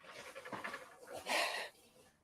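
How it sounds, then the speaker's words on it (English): Dogs panting as they walk past, quick breathy huffs coming in an uneven rhythm at close range, with a louder burst of breath near the end and no clear talking over it. "Your mum's dogs are about to walk past."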